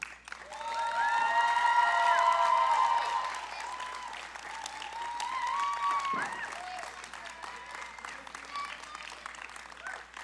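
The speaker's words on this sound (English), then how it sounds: "please stand for another round of applause" A high school graduation audience claps in a steady wash of applause that swells, eases off and returns, with a voice or tonal sound carrying over it.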